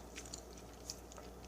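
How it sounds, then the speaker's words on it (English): Someone chews vegan gluten-free blueberry waffles close to the microphone, with soft, faint, irregular bites and squishy mouth sounds over a low hum and no speech. "as I'm trying to chew"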